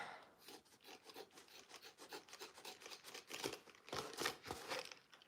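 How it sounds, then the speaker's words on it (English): Scissors trim fabric seams at a sewing table, a quick run of close, quiet rasping snips and rubbing strokes with no talk. "So I'm going to just start right here and trim my seams."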